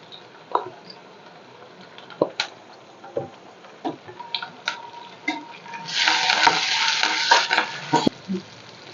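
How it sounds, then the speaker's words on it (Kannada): Onions fry in a pan with ginger garlic paste for a chicken liver gravy, with a spoon scraping and knocking in separate strokes and the sizzle swelling loudly midway before easing off. "ಈರುಳ್ಳಿ ಚೆನ್ನಾಗಿ ಫ್ರೈ ಆಗಲಿ ಇವಾಗ ಒಂದು ಸ್ಪೂನಷ್ಟು ಶುಂಠಿ ಬೆಳ್ಳುಳ್ಳಿ ಪೇಸ್ಟ್ ಹಾಕ್ತಾಯಿದ್ದೀನಿ"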